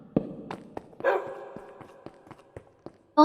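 A dog barks in a Minecraft modpack game, several short sharp yelps scattered across the moment with a louder burst near the end, heard close and fairly clear against a quiet backdrop.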